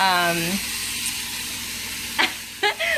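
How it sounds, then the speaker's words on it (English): Onions sautéing in a pan for chicken pot pie filling, a steady hiss of sizzling oil with a couple of sharp utensil scrapes near the end, and a voice briefly at the start. "You're gonna go ahead and saute them."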